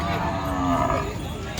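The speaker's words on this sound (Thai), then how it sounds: "มีทั้งวัวทั้งควายเลย" Cattle moo at a busy cattle and buffalo market in Ban Chat, Phon district, Khon Kaen, Thailand; a single loud, close, drawn-out low moo rises over a crowd murmur.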